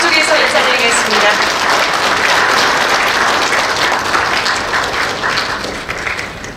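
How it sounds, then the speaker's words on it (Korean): Loud, sustained applause from a seminar audience welcoming a guest, a dense wash of clapping that holds steady for several seconds and then gradually tapers off, with a voice faintly beneath it. "류종복 영가회 원로회 의장님, 큰 박수로 여러분 인사 나눠주시기 바랍니다."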